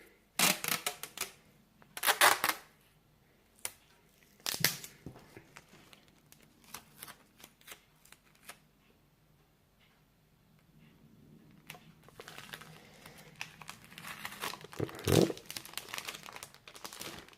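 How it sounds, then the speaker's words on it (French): Adhesive tape is pulled and pressed to seal a handmade ocean-themed pouch: bursts of crinkling and tearing, then quieter rustling and tapping, with a denser patch of crackle near the end. "il ne vous reste plus qu'à scotcher"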